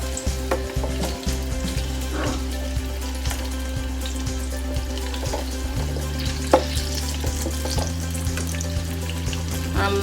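Chicken lollies deep-fry in hot oil in a deep fat fryer, a close, steady bubbling sizzle with sharp pops over the fryer's constant low hum, and no one speaking.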